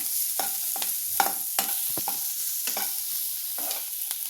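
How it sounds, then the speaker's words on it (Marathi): Chopped onions sautéing in oil in a pan, a steady sizzle broken by repeated scraping strokes of a spoon stirring them in a quick, uneven rhythm. "आपण ह्याला तेलावर छान परतून घेऊया."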